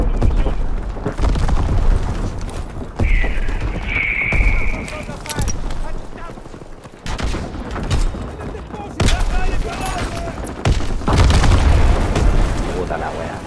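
An ammunition supply blowing up in a WW2 shooter game: loud, repeated booms and crackling blasts with scattered gunfire, while voices talk over the chaos.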